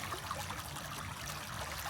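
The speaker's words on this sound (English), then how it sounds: "We have flowing creek water here." Water in a small backyard creek runs after rain, a steady close trickle and gurgle that keeps up evenly for two seconds with no voices.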